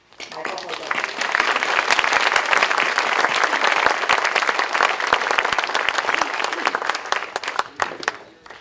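Sustained audience applause welcoming historian Michael Hogan at a lecture, dense steady clapping filling the room for several seconds and tapering slightly at the end.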